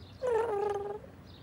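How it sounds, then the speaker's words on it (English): A cartoon cat gives a short, tonal purring trill, a single clear rumbling note that rises and fades within a second. "are you purring every time I say Alice?"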